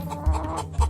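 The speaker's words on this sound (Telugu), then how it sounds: "ఒక కోడి పుంజు కనకం మొక్కల్లోకి దూరింది" Two short, low clucks from a rooster, close by, spaced about half a second apart.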